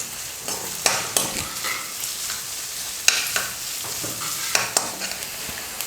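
Finely chopped large onion fries with a gentle sizzle in a pan as a spoon stirs and scrapes repeatedly, giving soft irregular clicks and taps over the steady hiss of oil.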